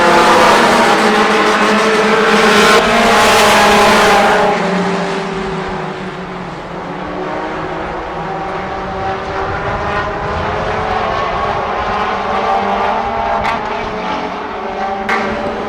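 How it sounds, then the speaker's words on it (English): Race cars roar around the Kalamazoo Speedway oval, a dense, loud engine drone that swells as the field passes close, then settles into a steady, slightly more distant multi-car rumble through the turns. "Watkins and Thompson battling through turns 3 and 4."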